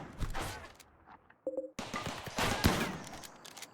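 Defensive turrets in RimWorld fire quick, rattling bursts of gunfire in several short volleys, fairly faint and clipped, with brief gaps between them.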